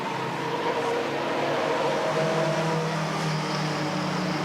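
Mini stock race cars from a 1989 season at Redwood Acres Raceway lapping the track flat out, their engines blending into a steady, moderately distant drone with no talking.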